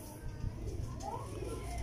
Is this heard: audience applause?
no